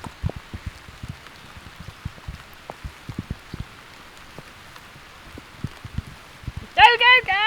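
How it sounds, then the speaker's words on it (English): Rain patters on a garden in the Loire countryside, scattered soft drops tapping close by over a quiet hiss, with a brief rising voice breaking in at the end. "How often do we garden in the rain though, this time of year?"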